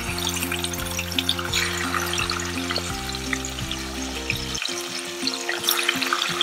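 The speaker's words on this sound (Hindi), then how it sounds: "तो सबसे पहले चिकन को फ्राई कर लेते हैं।" Chicken frying over high flame for a dhaba-style desi chicken curry, a steady bright sizzle throughout with low rhythmic hum and occasional clinks, close and alone without voices.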